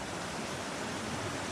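A small creek flows steadily, its even water noise filling the space with no pauses or other sounds.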